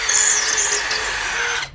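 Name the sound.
generic cordless drill on LXT battery drilling through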